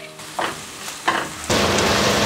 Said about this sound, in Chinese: 这个番茄酱炒一下让它出味儿啊